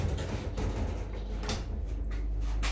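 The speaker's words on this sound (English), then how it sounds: "So it's got a dual door system, an interior and an exterior door." The exterior door of a newly installed pneumatic home elevator opens, a close sliding rumble with a few soft clicks and knocks over a steady low hum.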